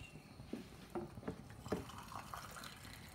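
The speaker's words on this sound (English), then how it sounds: "So I'm going to add half a cup of water." Boiling water is poured into a pan of chana masala in a few short, soft splashing bursts, close and fairly quiet, with gentle bubbling between them.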